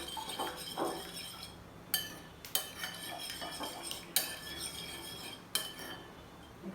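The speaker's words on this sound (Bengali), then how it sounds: "সব কয়েকটি উপকরণ ভালোভাবে মিক্সড করে নিচ্ছি" A spoon clinks and scrapes against a bowl while soy sauce and other ingredients are mixed for chili chicken: close, irregular metallic taps and stirring with sharper knocks every second or so.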